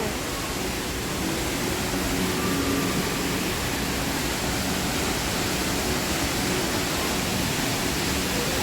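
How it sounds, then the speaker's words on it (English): Indoor waterfall at Jewel Changi Airport, a steady loud broadband roar of falling water filling the space throughout, with a brief spoken word near the start. "So this is the famous waterfall that everyone talks about."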